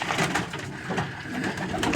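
Several racing pigeons coo together in a continuous murmuring chorus inside an upstairs loft, close and fairly loud, with soft rustling beneath.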